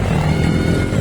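A motorcycle engine drones during a ladies' motocross final, a brief, steady mid-distance burst of motor noise.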